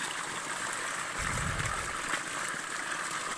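Water pours steadily through a village drainage channel in a continuous close hiss and rush, with a slightly fuller gurgle swelling briefly in the middle.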